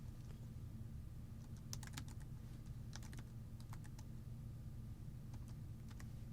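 Steady keystrokes on a computer keyboard, close and fairly quiet, coming in short irregular bursts over a constant low hum with no talking.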